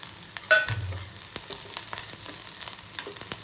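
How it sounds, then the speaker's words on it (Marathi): Ground peanuts and chillies frying in ghee for a fasting bhagar rice dish, giving a soft, steady sizzle with a brief clatter of stirring near the start, close and fairly quiet with no talking. "आता याच्यामध्ये हा जो शेंगदाणे आणि मिरची वाटलेली आहे ते आपल्याला थोडंसं फ्राय करून घ्यायचं"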